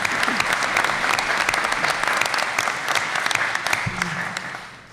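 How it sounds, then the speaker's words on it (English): An audience at a mayoral debate applauds an organiser with dense, sustained clapping that holds steady for several seconds before tapering off at the end. "So just a round of applause for J. Paul."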